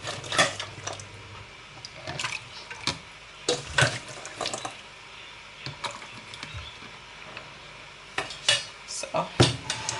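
Warm water is poured into a blender jar holding coconut. A soft, steady trickle runs beneath scattered clinks and clatters of kitchenware, close and fairly quiet, with no talking.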